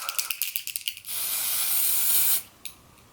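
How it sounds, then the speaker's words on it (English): Dior Airflash spray foundation is sprayed: a string of rapid short clicks, then one loud, steady hissing burst lasting over a second, followed by a brief tap. "let's do one more spray"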